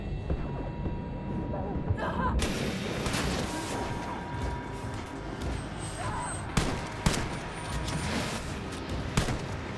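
Grenade blasts and gunfire in the co-op shooter Wolfenstein: Youngblood, loud broadband bursts over constant combat noise, with several sharp impacts toward the end.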